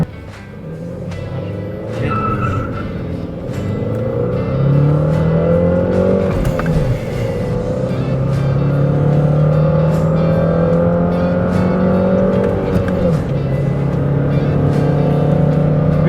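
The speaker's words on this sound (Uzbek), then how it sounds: "Mashina 14 sekund 100 ga chiqdi." A Chevrolet Malibu running on propane accelerates hard toward 100 km/h, its engine note rising in a long sustained climb and shifting pitch as it pulls through the gears, loud and close from inside the car.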